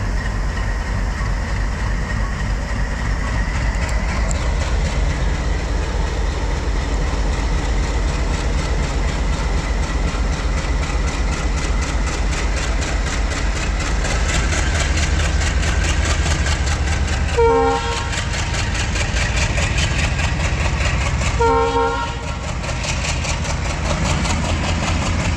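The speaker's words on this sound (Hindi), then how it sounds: "ये आप देख रहे हैं डीजल लोकोमोटिव जो कि लीड कर रहा है अंबाला पटियाला पैसेंजर को।" A diesel locomotive hauling the Ambala Patiala passenger train rumbles steadily with a deep engine drone and clattering wagons, and two short horn blasts sound near the end.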